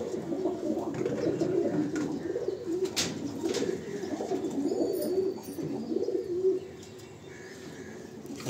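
Male pigeons coo in a low, steady murmur inside a pigeon loft in Rajarhat, Kolkata, with overlapping throaty calls and a few faint chirps and rustles at moderate distance.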